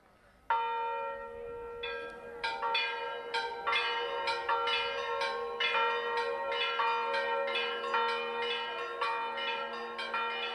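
Bells of Saint Sophia Cathedral in Kyiv ring continuously and loudly after a brief quiet start, with overlapping struck peals and a long, sustained harmonic ring, and no voices present.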